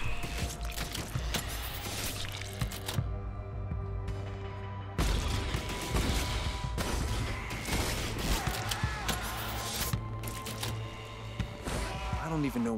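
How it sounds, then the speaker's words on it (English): Gunfire and blasts in The Anacrusis video game, with dense bursts of shooting and crashing impacts almost throughout, briefly thinning to a quieter stretch, while a person talks over the action. "An explosion, maybe?"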